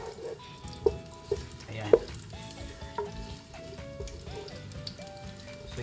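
Onions sizzle and fry in hot oil in a pan while chopsuey is being cooked, a steady crackling hiss broken by a few clanks of a utensil stirring. A voice speaks briefly over it.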